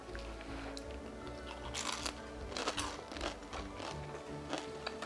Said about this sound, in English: Great chewing noises for you.